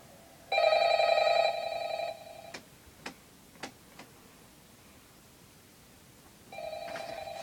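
A telephone rings loudly in two electronic bursts, a long trill at the start and another near the end, with a few sharp ticking clicks in the quiet gap between them.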